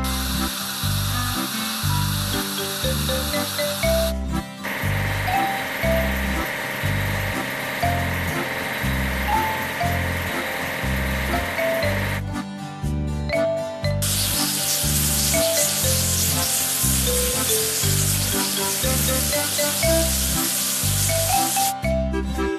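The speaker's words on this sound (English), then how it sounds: "Now let's wash the sprayer truck." A steady hissing spray with mechanical clicking and whirring as a sprayer truck is washed in a children's orange-harvesting video game, over a looping, upbeat game melody, shifting in texture a few times.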